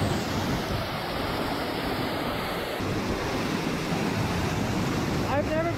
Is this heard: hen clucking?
no